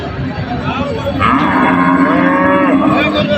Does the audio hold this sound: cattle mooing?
yes